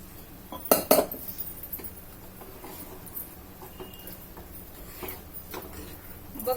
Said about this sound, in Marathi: मी थोडा कुकर धुवून पाणी टाकते त्याच्यात।